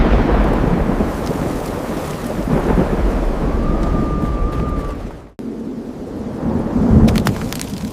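Thunderstorm in a prehistoric rocky landscape, with a loud continuous rumble of thunder and rain, a sharp cut near the middle, then renewed rumbling and a crackling lightning burst near the end.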